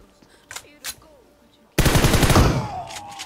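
A single heavy shotgun blast in PUBG Mobile on the Miramar map booms suddenly after a few quiet moments and rings off with a trailing decay.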